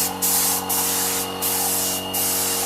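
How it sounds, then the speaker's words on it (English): A paint spray gun sprays a helmet in repeated passes, loud close hissing bursts broken by short gaps, with a steady low hum underneath. "Okay, we're now ready for the spray gun."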